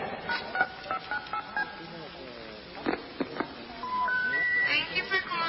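Dialing tones ring out from a bright red hotline phone in a radio comedy drama, a string of short beeps and tones mixed with voices and playful sound effects.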